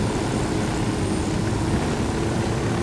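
Helicopter lifting off in the video game Ghost Recon Wildlands, a steady loud rotor and engine drone that holds even throughout, with no voices over it.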